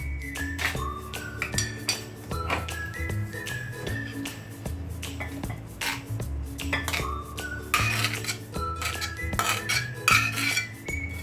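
A buttered baking dish of vegetables is set into an oven preheated to 180 degrees, with repeated clinks and clatters of metal and glassware, knocks and scrapes over a low hum.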